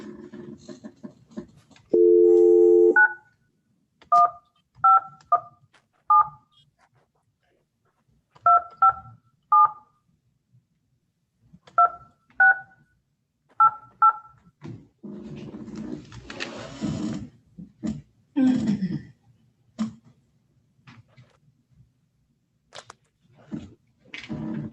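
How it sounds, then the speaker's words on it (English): Telephone dialing tones sound as a phone call is placed: a short burst of tone, then a series of evenly paced keypad beeps in small groups, followed by faint line noise and a voice speaking. "I do have a phone number listed for him. I can try to call him."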